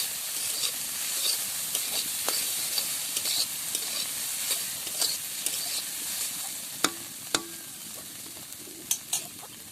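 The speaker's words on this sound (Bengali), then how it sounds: "ঢাকনাটা খুলে নেব একটু নাড়াচাড়া করে নেব" Cauliflower being stirred in a pan after the lid comes off, a continuous gentle hiss of frying with scraping strokes and several sharp clinks of the utensil against the pan near the end.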